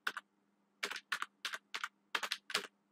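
Python code is typed on a computer keyboard in short bursts of quick, crisp key presses with brief pauses between clusters, close and clear in a quiet room.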